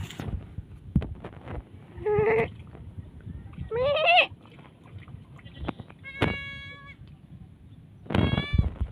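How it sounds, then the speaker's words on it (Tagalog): Several goat bleats ring out one after another, each a wavering, nasal cry, with quiet outdoor background between them. "Diyan yung kambing."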